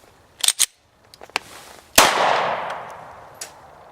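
A Glock pistol handled at close range: a few quick metallic clicks, then a single sharp rack of the slide with a brief ringing tail and a faint click after, with no talking over it.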